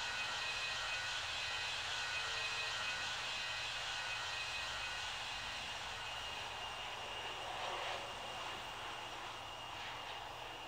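A jet airliner's engines drone steadily on final approach in the Infinite Flight game, a continuous, even, fairly loud roar and whine with no breaks.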